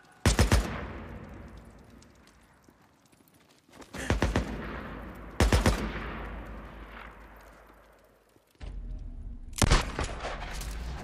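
Gunshots in the video game Days Gone come in several loud, sharp bursts spaced a few seconds apart. Each burst is followed by a decaying echo and rumbling background noise.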